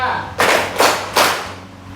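A classroom of students claps together in a clapping game, three separate group claps at an even beat, each a broad burst of many hands, with quiet room noise in the gaps.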